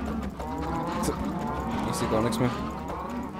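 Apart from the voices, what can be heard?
burning cows mooing in the video game Minecraft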